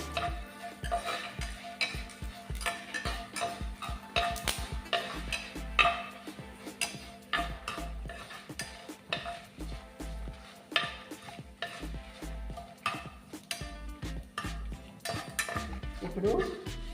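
Coriander, fenugreek and cumin seeds, about half a spoon each, dry-roasting in a pan while being stirred, giving a steady rhythm of light scraping and ticking strokes with faint clinks from the utensil against the pan.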